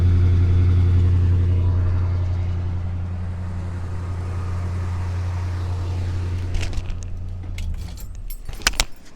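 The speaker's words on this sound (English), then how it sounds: "this one's cold, so the fast idle's still on" A cold 1967 or 1975 Oldsmobile Delta 88 V8 idling fast, a steady low rumbling drone that eases slightly after a couple of seconds, with keys jangling close by near the end.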